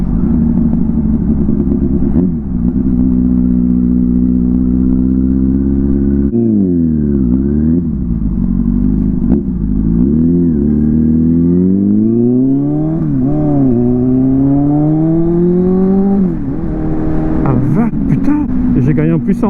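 A motorcycle with a broken exhaust, just collected from the garage with its carburetor rail cleaned, runs loud and close, its harsh engine note rising and falling through several revs.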